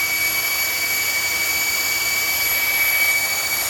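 A loud cooling fan on a Traxxas X-Maxx RC truck fitted with WFO upgrade parts whirs at a steady, high-pitched pitch from close by, with no talking.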